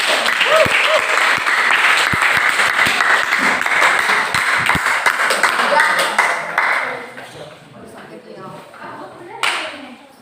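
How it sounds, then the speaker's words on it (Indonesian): Sustained applause and clapping from a classroom audience for a student group after a teaching exam presentation, loud and dense for about seven seconds before thinning into scattered claps, with light talk underneath. "beri aplaus untuk kelompok 1"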